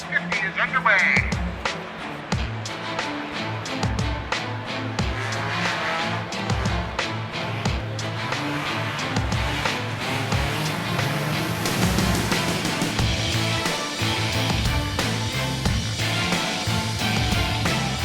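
Race cars roar off at the start of the Jack Frost Enduro 150 on a muddy track, engines revving loud and continuous with tire squeal and a dense wash of passing cars.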